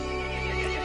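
A single loud, close horse neigh, a short whinny standing alone as a sound effect in a told story.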